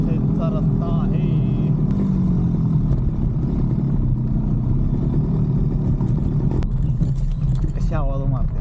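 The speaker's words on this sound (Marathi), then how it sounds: "कशी आवाज मारते, धार टार टार टार टार नुसता आवाज येतोय" Old Yamaha RX100 motorcycle engine running on an evening road, a loud steady two-stroke drone with continuous rumble, wind noise and a voice talking over it.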